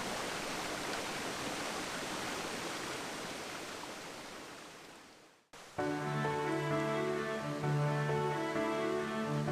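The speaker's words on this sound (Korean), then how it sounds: "흘러내린 계곡수는 중생대 말기에 만들어진 여감층을 따라 강으로 흘러갑니다." Valley stream water in the Taebaek gorge flows with a steady, soft rush that fades out midway, after which music takes over.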